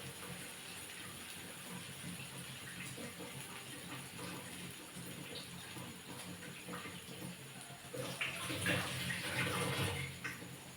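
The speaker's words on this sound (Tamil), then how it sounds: "இப்போ வடை நல்லா வேகட்டும்" Ulundu vada, crispy urad dal fritters, fry in hot oil with a steady soft sizzle and hiss that swells louder near the end.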